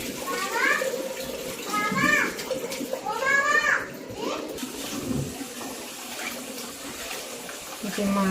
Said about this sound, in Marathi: बघा मी वरतून टाकते पाणी हे